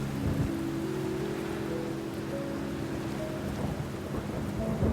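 Steady rain pours continuously while deep thunder rolls and rumbles beneath it, a full thunderstorm heard alone with no voices.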